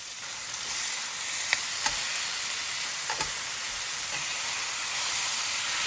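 Tandoori chicken fries over high heat in a pot, giving a steady, close sizzle and hiss with a few faint stirring knocks, and no one speaks.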